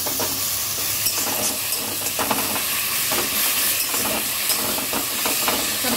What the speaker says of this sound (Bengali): ভালো করে কষানো হচ্ছে